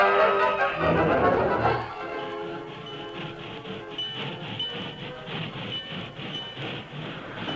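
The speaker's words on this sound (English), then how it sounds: "the work train gathered speed enough to run ahead until the other train could come to a stop" A radio-drama sound effect of a work train gathering speed, with a loud burst of hiss and mechanical chuffing that settles into a quieter, rhythmic rolling clatter.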